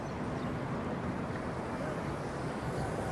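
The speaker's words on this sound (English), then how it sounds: "I think I hear the ferry that takes you over to Center Island." Steady low rumble of a ferry engine on a lake near Toronto's waterfront, with wind and wave wash, continuous and fairly loud, no voices.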